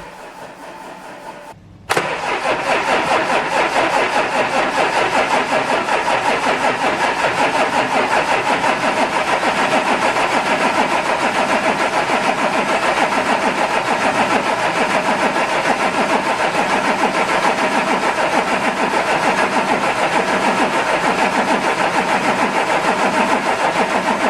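After a brief crank, an Audi A7 fitted with a replacement engine fires up for its first start and settles into a steady, loud idle that continues evenly with a faint rhythmic pulsing, close by, with no talking.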